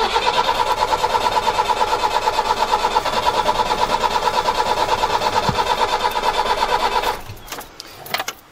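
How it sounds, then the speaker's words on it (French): An Iveco engine dosed with brake cleaner cranks in a fast, even, mechanical rhythm for about seven seconds, then gives a short cough as the starter stops, followed by a few clunks. "On devrait entendre un petit toussotement quand le nettoyant frein sera arrivé au cylindre"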